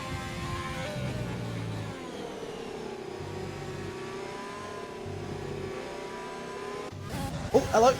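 Several race cars in the F1 2020 video game accelerate hard down the Kemmel Straight at Spa, with a loud, sustained engine drone rising in pitch and a brief sharp burst near the end.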